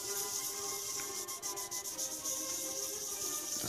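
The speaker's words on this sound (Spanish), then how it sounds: "Estamos aquí puliendo un poquito donde vamos a hacer una inscripción." A metal tomahawk head is hand-sanded with 400-grit wet-and-dry sandpaper, giving a continuous close, even rubbing hiss with slight stroke-to-stroke variation and no talking.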